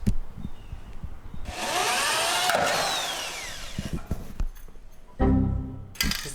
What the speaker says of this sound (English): My plan was to penetrate the metal multiple times with a smaller drill bit